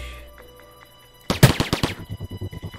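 Gunfire in a video game shooter, including a headshot: a sudden loud burst of rapid shots followed by a steady run of evenly spaced shots over a low hum.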